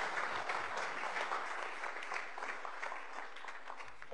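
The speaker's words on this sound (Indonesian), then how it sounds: "Tepuk tangan" Studio audience applause on a televised talk show, even and sustained clapping from a crowd, moderately distant and steady throughout the few seconds.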